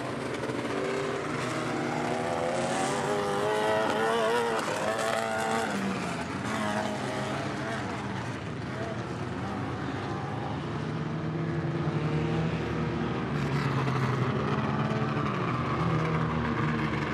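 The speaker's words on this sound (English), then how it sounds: "Richie Kuloff has got that Escondido Toyota on the racetrack as our pace vehicle" A Toyota pace truck leads a pack of race cars around the Elk River, Minnesota racetrack during a caution, with engines droning steadily and continuously and rising and falling slightly as the field circles.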